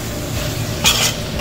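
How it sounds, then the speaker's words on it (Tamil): A spoon scrapes and stirs ground masala with ginger garlic paste in a pan, with a steady low sizzle underneath and a brief sharper scraping burst near the end. "இஞ்சி பூண்டு பேஸ்ட்டு 1 கரண்டி போட்டு எல்லாம் நம்ம நல்லா மிக்ஸ் பண்ணி வைப்போம்"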